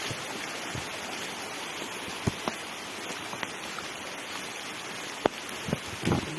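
Clear river water rushes steadily at a constant hiss, close and enveloping, broken by a few faint knocks and splashes with no voices.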